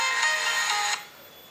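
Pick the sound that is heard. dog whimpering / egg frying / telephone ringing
telephone ringing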